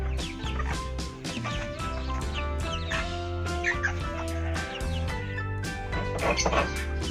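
Pet chickens and chicks, including Chabo bantams, cluck in short repeated calls over a steady musical backdrop, fairly close.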